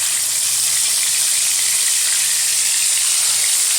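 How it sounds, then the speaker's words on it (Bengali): Shalpia fish full of roe fry in hot oil seasoned with turmeric, giving a steady, loud, close sizzle that holds without a break and has no talking over it. "এখন আস্তে আস্তে করে কিন্তু মাছগুলো ছেড়ে ভেজে নেব, যেহেতু ডিম আছে একটু ছেটার ভয় আছে।"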